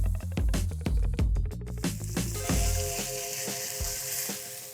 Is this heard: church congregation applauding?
no